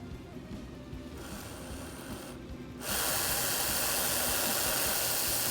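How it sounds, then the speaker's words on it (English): The small motor of a 2005 Ford GT Auto World slot car runs with a faint whirring hiss that jumps louder about halfway through and stays steady. "Let's get that motor warmed up."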